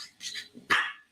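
A puppy shown on stage gives two short, high yips close by, the second sharper and louder, against near silence.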